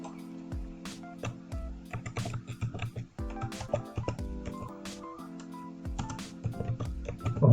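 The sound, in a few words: typing on a computer keyboard in Notepad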